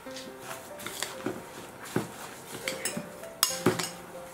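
Baklava filling of nuts, sugar and egg whites mixed in a bowl, with intermittent spoon clinks and scraping against the dish at an uneven pace, close and moderately quiet, with no voices.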